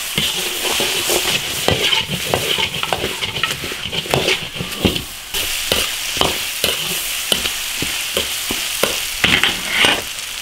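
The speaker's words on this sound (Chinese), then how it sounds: "把牛肉炒入味。" Beef stir-fried in an iron wok, a constant sizzle broken by rapid, irregular scraping and tossing strokes of a spatula, close and loud, with no voices.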